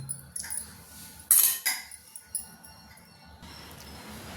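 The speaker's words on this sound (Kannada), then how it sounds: "ಈ ಮಡಿಕೆಗೆ ಗಟ್ಟಿಯಂದು ಒಂದು ಎರಡು ಸ್ಪೂನ್ ಆಗೋವಷ್ಟು ಮೊಸರು ಹಾಕ್ತೀನಿ ಹಾಕಿ ಒಂದು ಸಲ ಮಿಕ್ಸ್ ಮಾಡಿಬಿಡ್ತೀನಿ" A spoon clinks and scrapes against a clay pot while curd is stirred, with a few sharp, bright taps and softer scraping strokes spaced irregularly, close by and alone.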